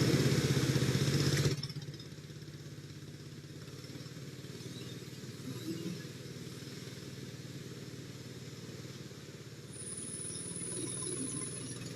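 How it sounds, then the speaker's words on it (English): A two-stroke engine runs in East Kalimantan, Borneo, as a faint, steady buzzing drone heard from a distance. It follows a short burst of louder broadband noise at the start. "hopefully you did hear some of the soothing dulcet tones of a two-stroke engine"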